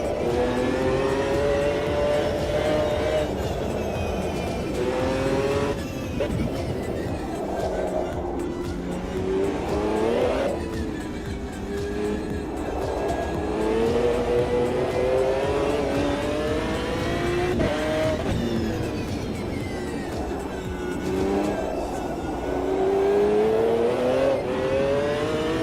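Race car engine from the Automobilista 2 sim racing game, revving and wavering in pitch through a donut on cold tyres, loud and continuous with rising and falling whines, tyre noise and a voice talking over it.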